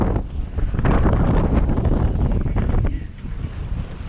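Strong wind roars across the microphone aboard a sailboat crossing the Strait of Messina in August 2019, a loud continuous rush with some low hull and water rumble beneath it.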